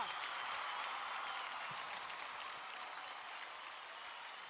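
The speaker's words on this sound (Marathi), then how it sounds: "जोरदार टाळ्या होऊन जाऊ द्या." A studio audience on a televised dance competition bursts into sustained applause for a dancer, dense steady clapping that slowly tapers, with no speech over it.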